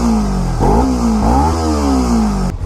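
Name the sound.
Kawasaki Ninja 300 motorcycle engine revving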